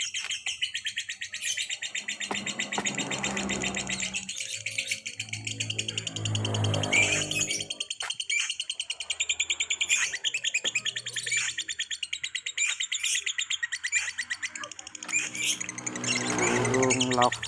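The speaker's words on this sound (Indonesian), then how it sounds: "Bagus suara burung ini." A songbird known locally as the burung lobster sings steadily close by, a dense run of bright, rapid trills and chirps over about seventeen seconds, with brief low rustles between phrases.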